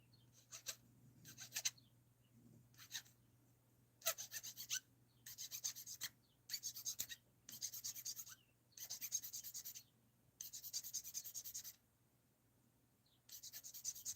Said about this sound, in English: Doing a lot of heavy sanding right now